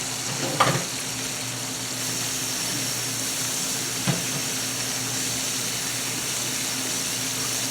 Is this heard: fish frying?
yes